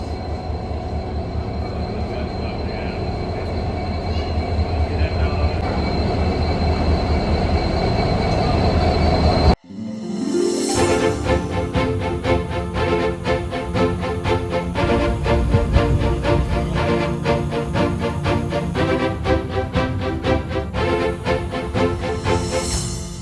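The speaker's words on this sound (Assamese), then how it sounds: "এতিয়া 3:49 হৈছে আৰু এইফালে ট্ৰেইন আহি পাই গ'লহি।" A train arrives at a station with a rumbling roar, rhythmic wheel clatter and squealing, loud and close, continuing after a sudden jump in loudness.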